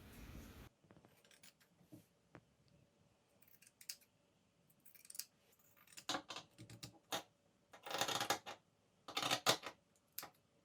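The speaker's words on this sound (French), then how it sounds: "Et ensuite, on les découpe." Scissors cut fabric squares for a tote bag, quiet scattered snips at first that build into clusters of crisp rapid cuts near the mic, with short pauses between them.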